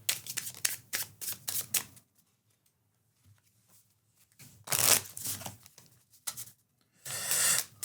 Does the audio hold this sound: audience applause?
no